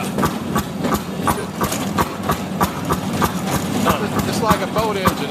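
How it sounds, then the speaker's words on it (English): A Fairmont S2 rail speeder engine, just bump-started, fires on every stroke in a steady rapid rhythmic chugging, loud and close, with mechanical clatter throughout. "Now you hear it firing every stroke."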